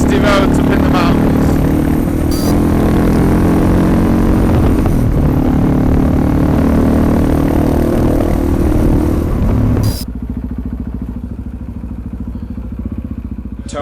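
A motorcycle runs steadily along twisty mountain roads in Colombia, its engine drone loud and continuous with road and wind noise, then dropping to a quieter, duller rumble for the last few seconds.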